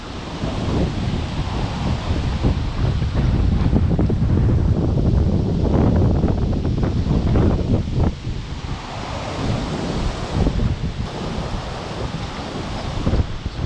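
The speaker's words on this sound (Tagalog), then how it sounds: "sobrang lakas ng hangin guys" Strong wind roars and buffets the microphone on the coast of Alabat Island, with heavy surf churning underneath in a continuous, loud wash and no talking.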